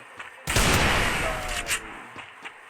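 Gunfire bursts in a shooting video game, a loud sustained volley starting half a second in and running about a second and a half, followed by a few fainter shots.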